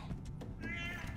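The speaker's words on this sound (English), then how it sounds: "Fucking cat." A cat meows within The Last of Us: Left Behind, a brief feline cry over a dense backdrop of in-game ambience, with one rising, drawn-out call near the end.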